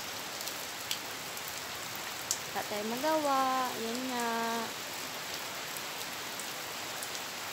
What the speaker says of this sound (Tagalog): So umuulan dito guys.